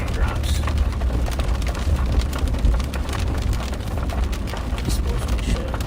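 Big raindrops pelt down steadily during a police patrol, a loud, dense, continuous patter with no breaks across the whole stretch.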